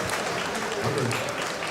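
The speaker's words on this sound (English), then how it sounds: "a big applause for both finalists" Audience at a Levels Fight League mixed martial arts event clapping for the two finalists, a steady dense wash of applause with crowd murmur and a brief voice underneath.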